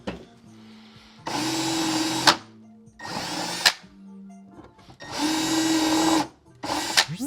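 A long, skinny step drill bit bores through the plastic shell of a HasLab Proton Pack in several short, whining bursts, with brief quiet gaps between them.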